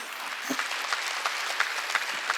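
Congregation applause during a Wednesday church worship service, dense continuous clapping at moderate loudness, heard alone without voices.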